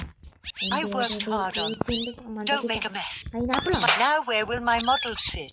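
A house cat meows repeatedly and loudly at close range, a string of drawn-out, wavering cries with brief pauses between them.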